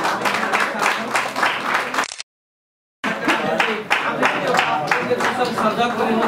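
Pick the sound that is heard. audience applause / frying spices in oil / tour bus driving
audience applause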